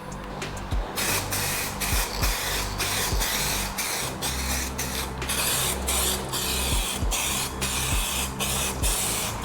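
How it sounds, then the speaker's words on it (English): A spray gun steadily hisses out 2K lacquer onto Range Rover wheels in a workshop, a continuous close airy spray with brief regular interruptions and no talk. "Now we are using 2K lacquer, so Buddy's got his mask on."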